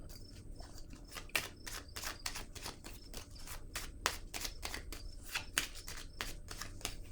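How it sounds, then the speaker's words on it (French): Tarot cards being handled and laid down on a table during a reading, heard as a steady run of soft, close, rapid clicks and light card taps with no talk. "Je vais déposer une carte sur le don."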